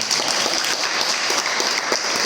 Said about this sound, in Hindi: एक बार तालियां बजा दो भैया